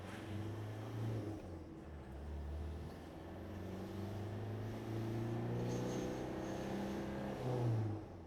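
A Land Rover Defender with a 2.8 liter performance-tuned turbo diesel accelerates, a low engine drone rising gradually under some wind and road noise, moderately loud without any talk.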